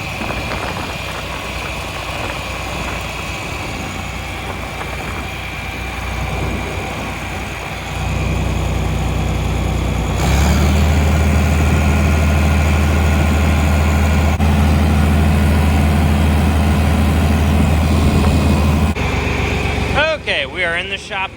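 A John Deere 4020 tractor engine runs with a low, steady diesel drone. It grows louder and heavier partway through, then falters near the end. A voice talks over it at times.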